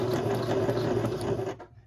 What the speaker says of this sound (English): We're going to sew forward.